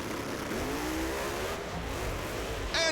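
A Corvette drag race car engine revs in a brief rising sweep, heard faint and distant against a roaring crowd-and-track background.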